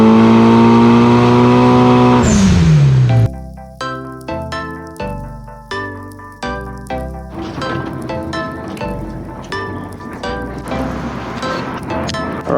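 A Mitsubishi Evo 9 with a carbon roof pulls hard on a dyno: a loud, steady engine drone for about two seconds, then a falling pitch as it lets off. Plucked, rhythmic music takes over for the rest.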